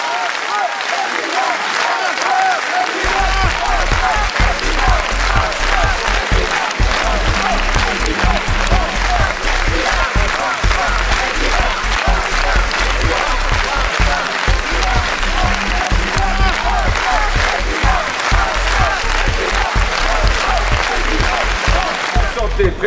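A packed crowd at a François Hollande political rally in Nantes claps steadily and loudly, the applause holding at a sustained level for the whole stretch with a faint rhythmic pulse running through it.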